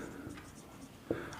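Pen or pencil scratching on paper as accounts entries are written out for a class 12 partnership numerical, a faint continuous scrape with one sharper tap near the end.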